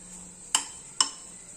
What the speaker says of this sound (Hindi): 2 से 3 मिनट बाद साग को कड़छी की सहायता से इस तरीके से एक बारी चला लेंगे।